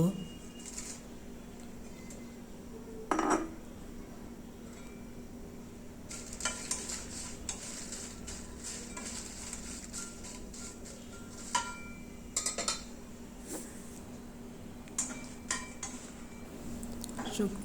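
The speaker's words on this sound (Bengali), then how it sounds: "এখন হলো কয়টা শুকনো মরিচ ভেজে নেব" Dry chilies frying quietly in a pan, with a soft sizzle, occasional scrapes and clinks of stirring, and a person talking over it.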